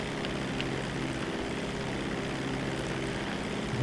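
A jet fighter flies in GTA Online, a steady, loud, unbroken engine roar that stays close and even throughout with no voices over it.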